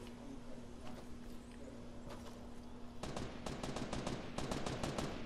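Rapid bursts of video game gunfire from a Fortnite duos match, faint at first and then a dense run of sharp automatic shots in the second half over a steady game backdrop.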